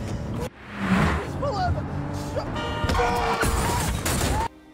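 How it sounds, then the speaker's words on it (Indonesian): Film car chase in which a fleeing car slams into a passing car, heard as a loud crash and screeching tires amid engine roar and whooshing impacts, with a voice speaking over the action. "Tiba-tiba, mobil yang dibawa Joe menabrak mobil yang sedang melintas."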